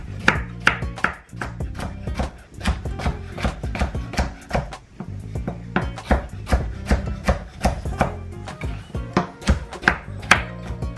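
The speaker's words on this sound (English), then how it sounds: "So just cut your carrots like this." Carrots are chopped with a knife on a board in rapid, fairly even strokes, about two per second, close and crisp, with a short pause early on; no voices.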